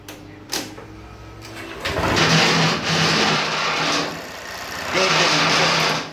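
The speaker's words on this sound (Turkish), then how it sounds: "Motosikleti tekrar çalıştırıyoruz." A 2020 Honda PCX scooter with a faulty control unit is started again: a brief starter whir, then the engine catches and runs with a steady idle, rising in bursts of revving, close by and alone.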